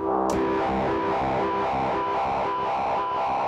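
Harsh, dense feedback from a no-input mixing board, heavily distorted into a steady buzzing roar with layered overtones, loud and unbroken throughout.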